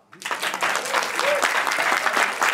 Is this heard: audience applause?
yes